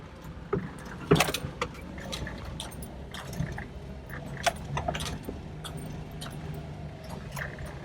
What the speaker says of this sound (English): it's kind of odd to be driving a vehicle down an ATV trail